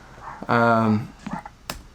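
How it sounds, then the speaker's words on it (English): Dogs barking outdoors during a town walk, one drawn-out close bark or howl followed by a couple of shorter yips, loud against quiet background. "these dogs. They're so annoying."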